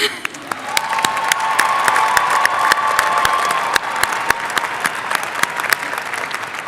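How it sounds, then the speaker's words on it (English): A commencement ceremony audience claps, the crowd's dense applause swelling with some cheering and a few sharp standout claps, then thinning toward the end. "Let's clap one more time"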